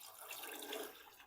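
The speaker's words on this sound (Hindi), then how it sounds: "अब जिस पानी में चने बॉईल करके रखे थे ये पानी इसमें डाल दूंगा" Water that chickpeas were boiled in is poured into a pot for Peshawari pulao, a steady, soft liquid pour and splash running alone for the whole moment without a break.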